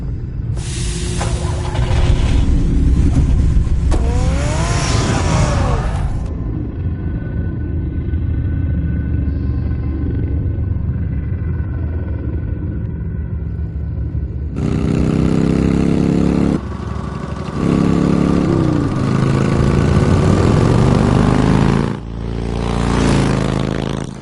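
A car engine in Telltale's Batman game rumbles and revs through long stretches, with rising and falling pitch sweeps as it pulls away, broken by short pauses and a renewed roar later on.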